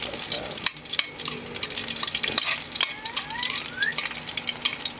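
Onions frying in a pan while a pork dish is prepared, a continuous crackling sizzle with occasional spatula knocks and scrapes, close up and without voices.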